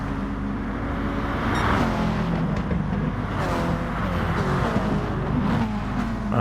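Race cars at Interlagos in a racing video game, engines whining and revving in a dense continuous roar, with several cars close together and shifting pitch.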